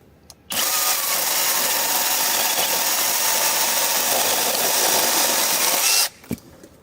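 A Heimerdinger LB212 cordless chainsaw cuts through dry wood in one continuous, loud, high-pitched whine of about five and a half seconds. The saw starts abruptly and stops abruptly, with near silence before and after and no speech.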